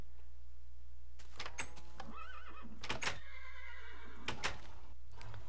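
A horse neighs and whinnies in the video game Minecraft, with two or three loud, harmonic calls close by over a low steady hum, and no talking.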